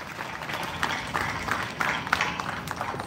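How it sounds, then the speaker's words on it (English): A festival audience at an East African Community arts festival opening ceremony in Arua City, Uganda, claps in a steady, dense wash of applause from a crowd at a moderate distance, with no voices over it. "Another round of applause."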